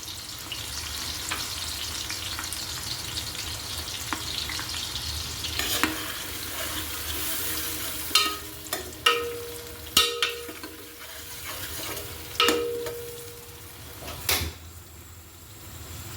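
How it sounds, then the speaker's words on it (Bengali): Chopped onions with dried black lemon frying in a pan for beef kabsa, a steady close sizzle with occasional clanks and knocks of utensils and cookware over it. "পেঁয়াজটা কিছুক্ষণ ভেজে নিব।"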